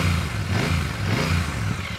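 A Royal Enfield Super Meteor 650 motorcycle engine runs steadily and loud, its low rumbling idle pulsing in a regular beat with a slight popping throb throughout, no talking.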